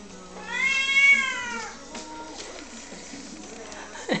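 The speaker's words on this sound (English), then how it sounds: "That's Mama you hear screaming because she wants up here to eat" A Tonkinese mother cat lets out a long, loud, wailing meow, wanting to be fed, followed by softer scattered sounds and a brief sharp cry near the end.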